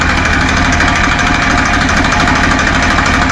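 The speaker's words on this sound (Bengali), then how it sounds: "আপনারা এখন স্টার্ট সাউন্ড শুনতে পাইবেন। ইঞ্জিনে কোনো গ্যাস নাই" Tafe 45 DI tractor engine running loud and steady, a continuous diesel chug with rough knocking pulses and no talk over it, held at one even level throughout.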